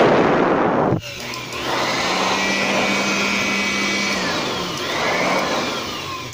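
Double-burner waste oil stove with a 10-inch diameter running near maximum, giving a loud, steady roaring rush with a low hum underneath. It starts after a brief burst of louder noise and swells slightly toward the end.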